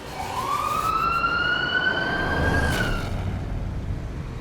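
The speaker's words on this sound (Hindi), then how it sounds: "अंकु बस थोड़ी देर में एम्बुलेंस आ रही है।" An ambulance siren sounds one long wail that climbs and then sweeps back down, loud and close over a low rumble, with no one speaking.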